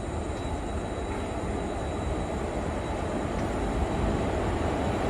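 A passenger train arriving and slowing nearby, rumbling steadily in a continuous low roar that holds at even loudness with no voices.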